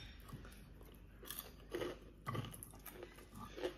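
Someone bites into and chews crispy fried chicken with rice, producing irregular close crunches and crackles, louder snaps scattered through soft mouth sounds.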